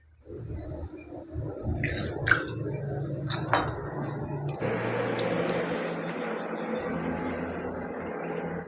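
Wet, squishy sounds of hands kneading dough worked with oil and water for Bihari round khaja, with small sticky pats and drips. A steadier background hum joins partway through.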